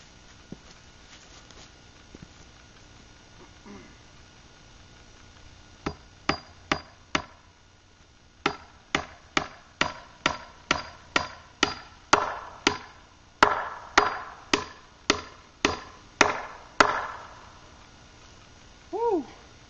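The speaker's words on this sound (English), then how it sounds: "20-ounce hammer will give your arm a workout too in short order." A 20-ounce hammer drives 16d bright common nails while framing a shed, a steady series of sharp metallic blows, slow at first then quicker and evenly spaced, fairly close with a quiet pause before.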